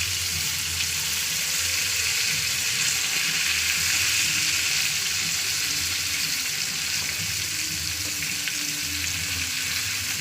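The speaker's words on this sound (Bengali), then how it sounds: "চলুন এই পিঠে ভাজা হয়ে মাছটা তুলে নেবো।" Fish fry in a pan of hot oil with a loud, steady, even sizzle that lasts the whole stretch and has no talk over it.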